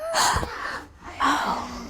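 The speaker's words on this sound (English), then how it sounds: "Can you gasp?" A child gasps twice, sharp and close, with a short pause between the breaths and no other sound around them.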